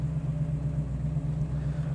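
A 1966 Ford Mustang engine idles steadily close by, a low, even rumble with a constant throb and no revving, running alone without any voices.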